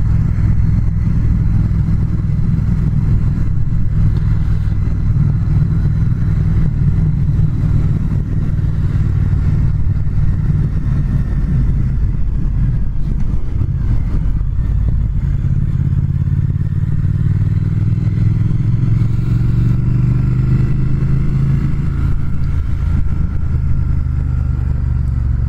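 A 2019 Triumph Speed Twin motorcycle engine while riding, heard as a loud, continuous low engine drone with shifting revs and road rumble, close to the microphone throughout with no talk.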